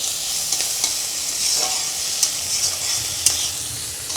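Dried red chillies hit hot oil in a pan, an even high sizzle with a few sharp crackles and stirring scrapes, close and steady throughout.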